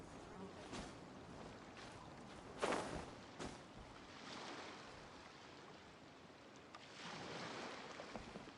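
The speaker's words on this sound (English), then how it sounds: "The waves are as calm as always." Calm ocean waves in the video game Genshin Impact, a soft, steady wash of surf with a few gentle swells rising and fading, faint and distant throughout.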